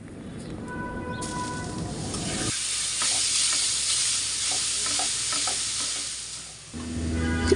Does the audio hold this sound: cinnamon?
yes